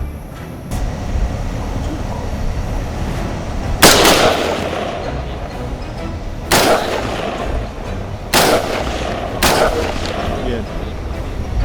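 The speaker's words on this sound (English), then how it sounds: "There's him down. He's down. Shoot another one. Keep shooting." Rifle shots during a wild hog hunt ring out outdoors, four sharp loud blasts spaced a few seconds apart over steady background noise, with people talking quietly between them.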